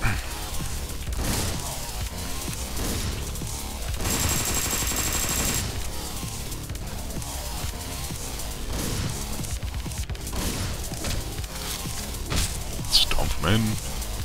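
Shotgun blasts from the top-down action game Hotline Miami 2, loud gunfire bursts over a steady, busy game soundtrack, with a sharper cluster of shots near the end.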